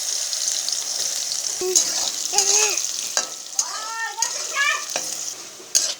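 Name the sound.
soybean chunks with salt and turmeric frying in oil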